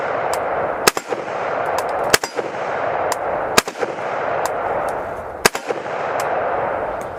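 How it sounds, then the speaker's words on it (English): Single AK rifle shots ring out one at a time at an outdoor shooting range, about six sharp loud cracks spaced irregularly a second or so apart over steady background hiss, with no talking. "fire another 5 rounds, test out the accuracy on this thing"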